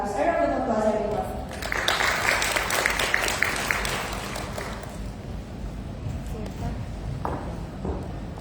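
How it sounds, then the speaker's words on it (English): Applause from a conference audience at a personal care technology summit in Jakarta, moderately loud and fading, while a voice speaks over it and a few scattered claps linger toward the end. "A round of applause, everyone."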